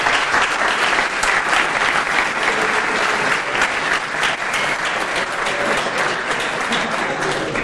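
Sustained applause from an audience at a presentation for the OpenFIN team, dense steady clapping filling the whole stretch with some crowd murmur underneath.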